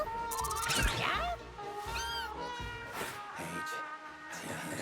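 Cartoonish cats meow repeatedly in the video game Mewgenics, several rising and falling calls over a background of game music and ambient effects.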